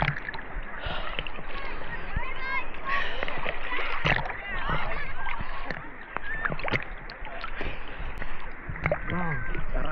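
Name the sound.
ocean waves splashing at a beach in New Zealand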